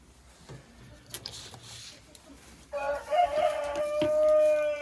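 Old hens in a chicken coop, a faint quiet stretch of light scratching and clucks before a louder drawn-out call rings out near the end.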